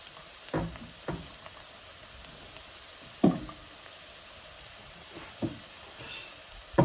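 Shallots fry in a pan with a steady, soft sizzle throughout, broken by a few sharp utensil knocks and stirring clacks against the pan, close and without talk.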